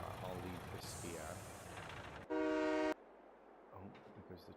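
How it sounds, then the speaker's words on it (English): A train rolls past with a loud, steady horn blast lasting about half a second in the middle, set amid a Farming Simulator 22 rural landscape with a rumbling vehicle and background noise around it. "Oh, there goes the train."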